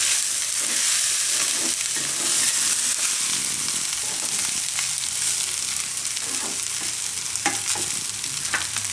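Fenugreek pulao stirred and fried in a pan, with a steady loud sizzle throughout and irregular scraping stir strokes repeating close up, no voices.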